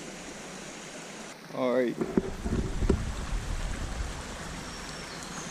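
Williams Brook in Pennsylvania's Allegheny National Forest flows with a steady, broad rushing of water, while a hiker speaks briefly and wind buffets the microphone.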